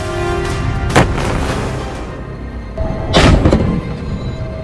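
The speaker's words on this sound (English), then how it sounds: "when that tank is in operation and we're firing off real rounds" Heavy booms from a tank firing live rounds during training, two strong blasts about two seconds apart over a constant loud rumble of engine and wind.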